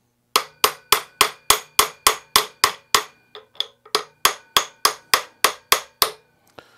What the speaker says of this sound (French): Donc, je continue à frapper.